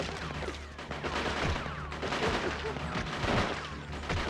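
Handgun fire in the PS2 shooter Cold Winter sounds among loud, busy game action, with repeated sharp shots layered into a dense, noisy mix.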